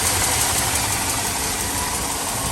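The engine of a 1998–2000 Chevy Tahoe runs just after its fuel pump was replaced, a steady, close idle with a constant rumble and faint ticking texture, no talking.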